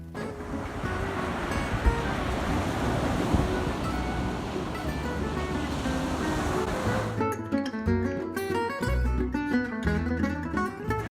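Ocean waves and surf wash in a steady, loud rush with some wind for about seven seconds, then music abruptly takes over.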